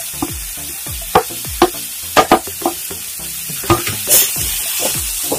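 Grated coconut goes into frying cabbage thoran, with a spoon scraping and knocking against the pan in irregular sharp strokes over a soft, steady sizzle.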